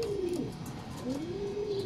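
Pigeons coo softly in repeated rising and falling calls over a steady outdoor hiss, with a racing pigeon landing on a rooftop loft.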